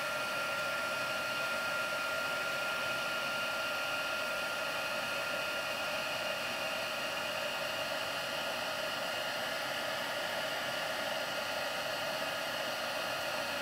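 Stampin' Up embossing heat tool blowing hot air in a continuous, even hiss and whir, steady and fairly quiet throughout with no talking, during card crafting.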